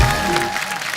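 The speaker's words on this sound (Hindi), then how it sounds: "जोरदार तालियां ऋचा दीदी के लिए।" Studio audience applause for a guest on a comedy talk show, a short dense burst of clapping heard close and loud for about a second, with a tonal music sting running underneath.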